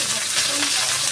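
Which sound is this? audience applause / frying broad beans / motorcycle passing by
frying broad beans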